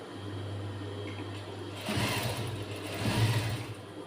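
A sewing machine runs steadily while a blouse is stitched, with a low motor hum all the way through that gets a little louder and busier partway in, and no talking over it.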